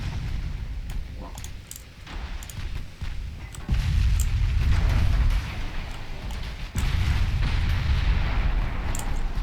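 Heavy naval gunfire and shell impacts on a battleship in a naval warfare game, deep rumbling booms that swell and roll on continuously, with two strong surges partway through, sounding distant and massive.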